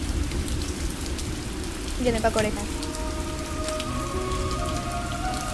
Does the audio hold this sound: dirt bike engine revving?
no